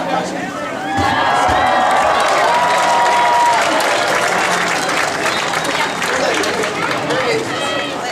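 Loud, sustained applause and cheering from a graduation crowd at a 2014 high school ceremony, a dense wash of clapping with shouts and whoops rising over it for several seconds.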